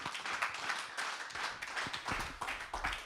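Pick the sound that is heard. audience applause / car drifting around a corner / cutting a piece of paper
audience applause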